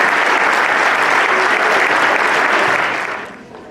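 Close, loud applause from an audience after an inspiring talk, a steady wash of many hands that tapers off in the last half second.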